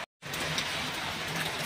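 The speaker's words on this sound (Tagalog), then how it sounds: "ang lakas na ng ulan" Heavy typhoon rain falling in Laguna, a steady dense hiss of drops after a brief silent gap at the start, fairly quiet overall with no talk.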